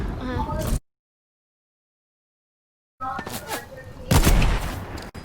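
Shotgun fire in a shooter video game, loud booming blasts and gunfire bursts before and after a long silent gap, mixed with game effects and players talking.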